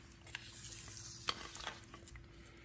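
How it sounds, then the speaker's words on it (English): Melted chocolate mixture stirred into Chex cereal and cashews in a bowl, giving a soft, steady scraping and rustling with a few sharper clicks, close and quiet throughout with no talking. "And then we're going to stir it in."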